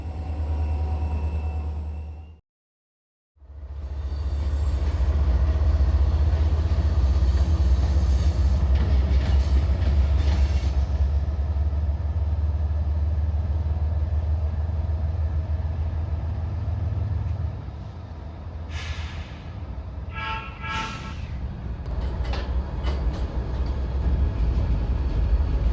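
Train engines rumble as a sound effect in an audio drama set on the Sierra Central railroad, a loud steady low drone that briefly cuts out near the start, then returns and runs on with some high metallic squeals later.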